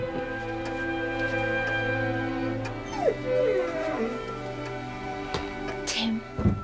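A dog whimpers and yips, its voice rising into short howl-like cries over steady background music, fairly close, with brief speech nearby.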